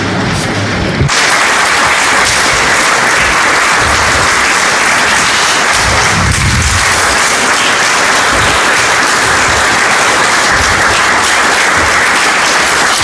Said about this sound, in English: Applause from the audience.